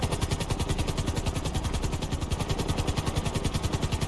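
A helicopter in the video game GTA 5 flies at speed, its rotor thumping in a fast, even, loud chop that runs without a break and without any talk.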